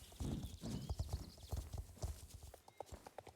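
Steady clip-clop of horse hooves trotting at an even rhythm in the video game Star Stable Online, close and clear, with a faint snort among the footfalls.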